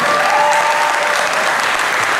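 A live crowd applauds loudly and steadily for a voice actor being introduced on stage, dense clapping filling the whole stretch without a pause.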